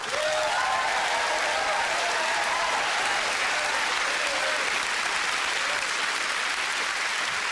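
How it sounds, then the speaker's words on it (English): Comedy club audience applauding and cheering steadily to welcome stand-up comedian Daniel Kitson to the stage, a dense continuous roar of clapping for several seconds with no talk over it. "Put your hands together, scream applaud, go mad, and welcome Daniel Kitson."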